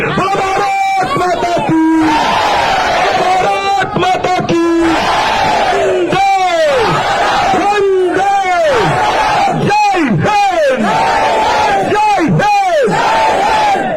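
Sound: crowd chanting victory cheer

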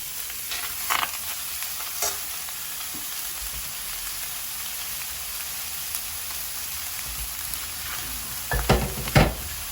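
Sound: beef cubes searing in hot pot

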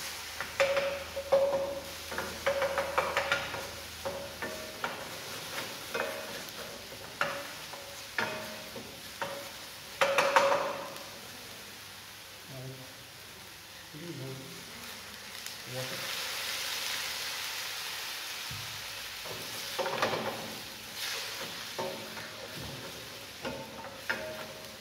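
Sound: onion lightly cooking in pan

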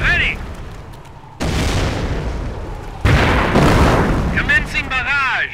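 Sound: mortar barrage firing and exploding in Company of Heroes video game

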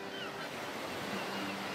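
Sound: waves washing onto beach

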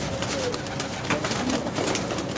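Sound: male pigeons cooing in their section

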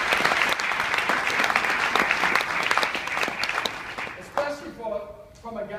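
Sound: audience applause

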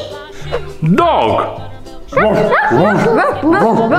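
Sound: dog barking

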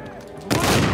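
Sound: shotgun firing in Uncharted 4 video game

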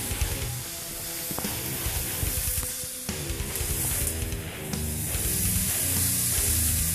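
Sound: food sizzling while cooking

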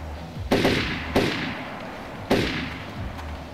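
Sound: gunshots in a video game

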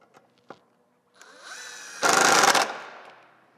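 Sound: tightening a bolt on a motorcycle

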